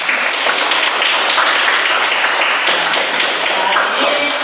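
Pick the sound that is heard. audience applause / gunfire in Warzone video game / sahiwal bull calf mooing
audience applause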